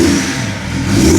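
A BMW E36 carrying a swapped M57 diesel engine revs briefly, the close engine note dipping and then climbing again in a short throttle blip, with no talk.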